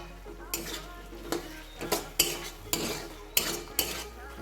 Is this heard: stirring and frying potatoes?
yes